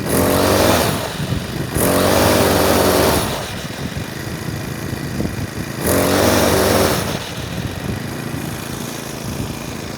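A Troy-Bilt TB6044XP weed trimmer fitted with a new carburetor idles with a buzzy small-engine drone, broken by two loud revs that return each time to a steady idle.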